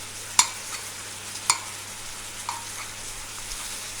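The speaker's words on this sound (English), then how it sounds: "now we have to cook the apples for about 5 minutes or so" Apples cooking in caramel in a pan make a soft, even sizzle with a couple of sharp utensil clicks and light stirring taps, heard alone.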